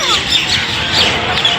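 Birds squawk and chirp busily in a large public garden, a dense continuous chatter close by with faint voices underneath.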